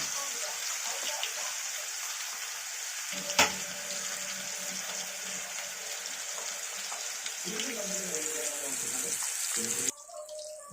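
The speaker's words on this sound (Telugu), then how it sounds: "ఒక సైడ్ ఫ్రై అయిపోయిందండి." Vanjaram fish fries in a hot pan with a steady, close sizzle throughout, broken by one brief clatter early on and a sudden drop in the hiss near the end.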